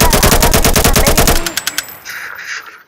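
Rapid bursts of AK rifle gunfire ring out loud and close in quick automatic succession, then break into a few separate shots that trail off into echoing tail and faint noise.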